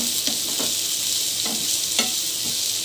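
Onions browning in a pan with a steady, loud sizzle of frying oil, broken by several soft scraping stirs spaced across the moment.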